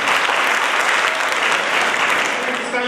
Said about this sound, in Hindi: और सभी लोग जोरदार तालियों से आपका स्वागत करें।